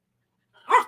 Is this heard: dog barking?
yes